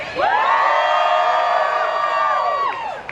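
A large crowd at a Hollywood Walk of Fame star ceremony for filmmaker Guillermo del Toro cheers, whoops and screams loudly and continuously for about three seconds before tapering off.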